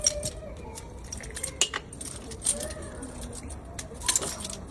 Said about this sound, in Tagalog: Tanggalin na namin yung mga kadena niya.